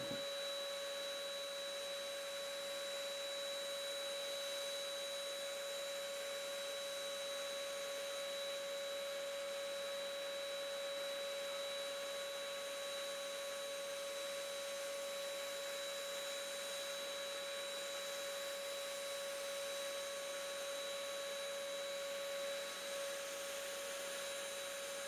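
An HVLP spray gun lays lacquer onto wood in a workshop, giving a steady, unbroken airy hiss with a constant high whine that holds level throughout, with no voices.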